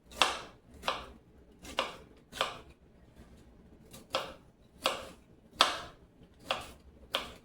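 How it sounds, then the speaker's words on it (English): A knife chops produce on a cutting board in about ten evenly spaced, crisp strokes, close and clear with quiet gaps between them. "I'm going to cut that up"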